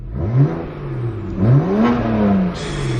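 A BMW 335i turbocharged engine revs up close, rising and falling twice through loud throaty sweeps, then settles before a hissy burst near the end.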